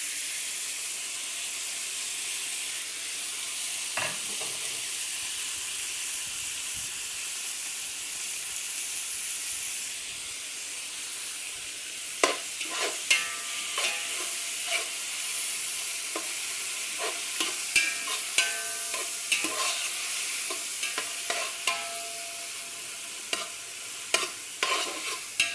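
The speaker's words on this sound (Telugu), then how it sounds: "తర్వాత వచ్చి మసాలాలన్నీ వేసుకుంటున్నాను" Carrots with spices fry in a pan under a constant hiss of sizzling, while a spoon scrapes and stirs in repeated close clatters that grow busier partway through.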